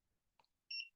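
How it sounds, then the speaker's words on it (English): A barcode scanner gives a single sharp electronic beep as it reads a code through clear packaging, heard close and alone against quiet surroundings. "sometimes the code takes a moment to read properly, but it went beep, so it read"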